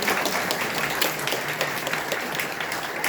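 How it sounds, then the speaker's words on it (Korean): A church congregation at Mass gives steady, moderately loud applause of many hands clapping together, continuing evenly without voices. "격려의 박수 부탁드립니다."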